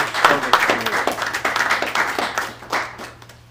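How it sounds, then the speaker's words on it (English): An audience claps for a Meritorious Service Award recipient at a Knights Templar convent and investiture ceremony. The crisp claps are moderately close, with a low hum running underneath and a voice briefly heard. "A round of applause for the recipient of our Meritorious Service Award."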